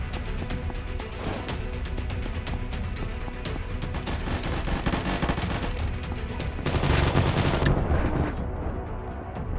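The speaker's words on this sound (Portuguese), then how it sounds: "O cara toma uns 20 tiros na cabeça e não morre" Rapid, dense gunfire from the first-person shooter Combat Master: continuous bursts of shots and impacts with a loud automatic stretch near the end, close and dominant with no talk.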